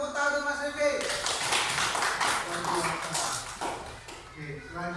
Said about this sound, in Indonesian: tepuk tangan Mas Rifki